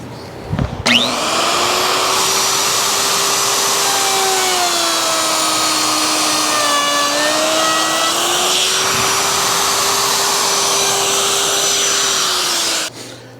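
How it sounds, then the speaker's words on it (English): A router cuts the toe kick of a cherry cabinet in a steady, loud, sustained whine that holds for about twelve seconds, its pitch dipping slightly midway, with a sharp start and stop at either end and no talking. "So we'll go ahead and route that"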